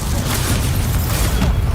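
An Incendio fire spell cast in the Hogwarts Legacy video game, a loud sustained roaring whoosh of flame with a heavy booming low end lasting throughout.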